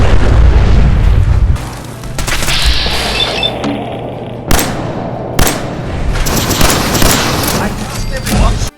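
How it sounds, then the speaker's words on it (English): A nuke grenade thrown at synths in Fallout 4 goes off with a loud close boom and crashing blast, followed by sharp bursts of gunfire and further impacts rattling through the fight. "Here I am, throwing a nuke grenade at the synths."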